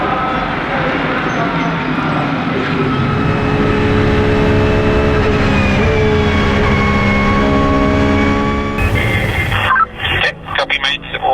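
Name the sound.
race cars accelerating at the start of the Nürburgring 24 Hours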